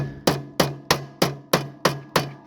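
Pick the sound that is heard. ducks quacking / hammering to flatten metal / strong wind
hammering to flatten metal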